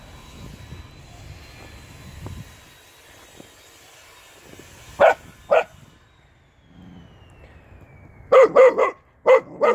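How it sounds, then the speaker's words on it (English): A dog barks sharply twice, then a rapid cluster of four or five loud barks, over a faint droning aircraft engine passing overhead. "no barking at the dog"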